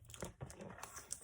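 Plastic packaging crinkles and crackles as a Monster High Toralei Stripe doll is worked out of its box; faint, close, irregular rustling with soft tearing, no talking.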